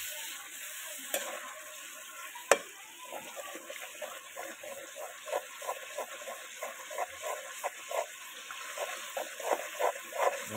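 Onion and spice masala for mutton being stirred in a wok, a steady run of soft scraping strokes over a faint background sizzle, growing busier and slightly louder, with one sharp knock early on.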